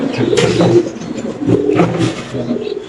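Spanish pigeons at a home pigeon farm give low, throaty cooing in repeated bursts close by, mixed with people talking.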